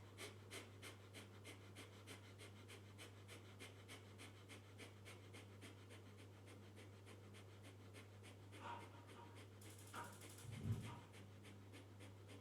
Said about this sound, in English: inhale to start the fire breathing for 100 breaths